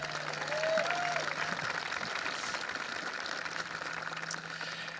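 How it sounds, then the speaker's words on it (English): Audience applause at an elementary school groundbreaking ceremony, a steady wash of clapping from an outdoor crowd lasting throughout, fairly even in loudness with a faint low hum beneath. "How about a round of applause for him?"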